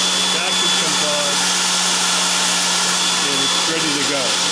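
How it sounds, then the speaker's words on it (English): A vacuum running on an abrasive blast cabinet, an unusual noise it has recently started making, drones loudly and constantly with a whining tone, while a voice speaks over it in places. "hit the button, lights come on, vacuum comes on"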